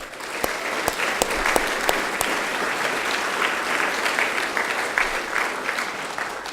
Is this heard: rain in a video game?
no